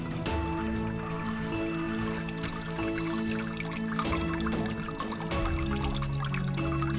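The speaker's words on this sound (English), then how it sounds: "there's water running into this pool here" Water running down into a pool on a common, a continuous near trickle and pouring splash with steady flow, layered with faint tonal background sound throughout.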